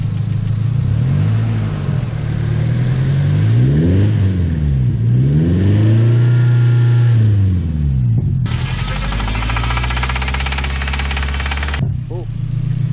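Nissan S14 240SX engine on a cold start, a loud close idle rising and falling through several revs, with a sustained high hiss partway through and voices in the background.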